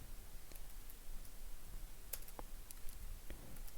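Faint sparse clicks of keys being typed on a computer keyboard while entering awk code, a few scattered taps over a quiet background.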